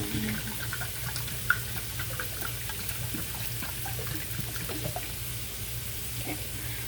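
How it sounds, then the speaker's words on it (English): Liquid is poured into a cooking pan, a soft, faint, steady trickle and splash that runs for several seconds over low background hum. "I'm just pouring it in now."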